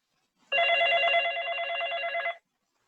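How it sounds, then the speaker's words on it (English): A telephone bell rings once in a single continuous trill lasting about two seconds, clear and isolated against silence. "And suddenly his phone rang."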